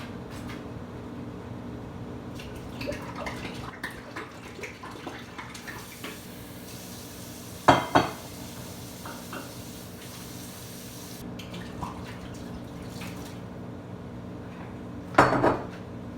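A glass jar being rinsed out with water for homemade hard apple cider, running water splashing with clinks and knocks of glass, two sharp bangs standing out amid the wash, no talking.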